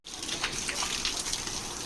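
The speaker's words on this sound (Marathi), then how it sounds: "पाणी मारत जा शेडच्या इथे जिथे सावली असेल तिथे पाणी मारत" A continuous hissing spray of water around a poultry shed, fairly close and steady, starting abruptly and running without pause.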